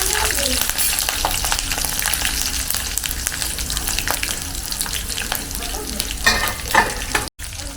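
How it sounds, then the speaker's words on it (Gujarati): Oil heats for tempering for bottle gourd muthiya, giving a busy close crackle and sizzle with frequent stirring scrapes and a few louder spits near the end, no talk, ending after a brief dropout. "કટિંગ થઈ ગયું છે અને વઘાર માટે તેલ મૂકી દીધું છે"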